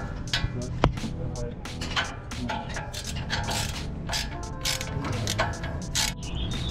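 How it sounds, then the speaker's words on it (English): A ratchet wrench clicks in quick bursts while loosening the bolt holding a sway-bar end link on a Lexus GX470 during a suspension install, with metallic tool noises throughout and close, steady mechanical ticking. "So now we're just removing this bolt to release the end link."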